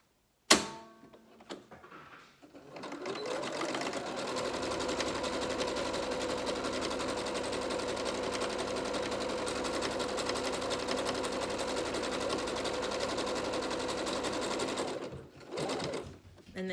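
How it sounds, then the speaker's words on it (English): A sewing machine runs a steady zigzag stitch along the fabric edge of a homemade cloth face mask, humming continuously and close up for about twelve seconds after a brief start, then stopping. "we're gonna zigzag stitch this to serge it to save time, and then just regular zigzag stitch all the way around"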